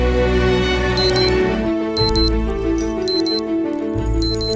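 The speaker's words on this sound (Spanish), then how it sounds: "Ahora, cuando suene el despertador," An alarm clock beeps in quick electronic bursts, repeating about once a second, over steady background music.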